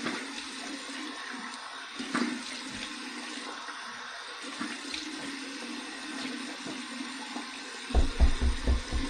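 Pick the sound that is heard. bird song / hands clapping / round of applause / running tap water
running tap water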